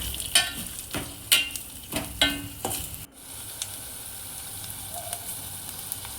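Ginger and garlic sautéing in a pan for Tamil-style country chicken soup (nattu kozhi rasam), with sizzling frying and several sharp stirring scrapes early on before the sizzle settles into a steady, moderate hiss.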